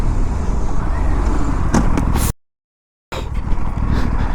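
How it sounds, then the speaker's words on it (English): An Aprilia RS 457 motorcycle with Brembo race brake pads brakes hard from around 100, heard as loud, close wind and engine roar with a sudden cut to silence partway through before the rush resumes. "This is the level of braking."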